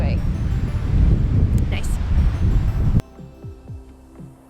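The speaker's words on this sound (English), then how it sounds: "But today is windy because it's October now." Strong wind in Riga, Latvia, in October buffets the microphone in a loud broadband rumble for about three seconds, then cuts off abruptly to a quieter scene with a brief spoken word.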